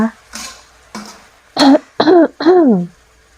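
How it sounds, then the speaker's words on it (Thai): Several rough throat-clearing sounds in a row, close and fairly loud, the last ones strongly voiced and grunting, with brief pauses between. "มีกระแอมนิดนึงไม่ว่ากันนะคะ"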